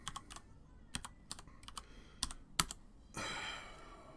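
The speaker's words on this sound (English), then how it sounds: "So we'll just type in maize coil replacements" A computer keyboard is typed in short irregular bursts of crisp, close key clicks with brief pauses between, ending in a longer smoother rustle.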